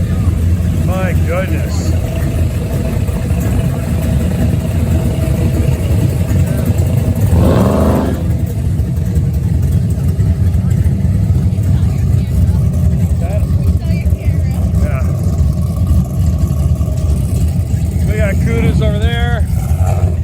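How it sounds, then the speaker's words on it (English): A hot rod Camaro engine roars with a deep, steady loud rumble at a crowded car event, rising in brief revs, while people talk and exclaim over it. "that Camaro sounds freaking brutal"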